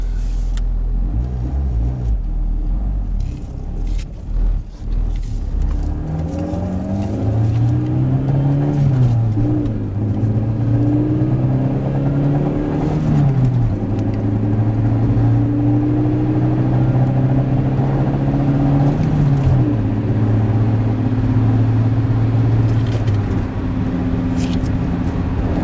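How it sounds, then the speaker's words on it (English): A 2002 Ford Focus with a newly replaced clutch pulls away and runs up through the gears, its engine droning loudly close by, with pitch climbing and dropping at each shift over steady road rumble. "Let's take it for a drive. Want to run it through all the gears."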